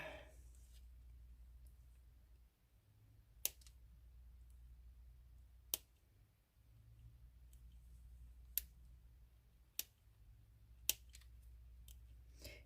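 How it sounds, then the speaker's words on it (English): Small scissors trim the edges off a resin piece: five or six sharp, isolated snips spaced a couple of seconds apart over a quiet low room hum, close and crisp. "You can hear me too, can't you? You can hear the little scissors."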